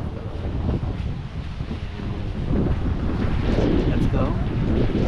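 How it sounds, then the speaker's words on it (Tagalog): Strong, gusty wind roars outdoors during a storm in San Diego, a loud, steady buffeting rush against the microphone that builds slightly louder in the second half. "Sobrang mahangin guys."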